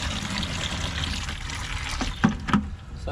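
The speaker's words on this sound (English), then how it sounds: "Just gonna drain the water out of the water heater here." Water drains out of a Navien water heater through a hose, a soft continuous trickle and gurgle heard close by, with a couple of faint knocks near the end.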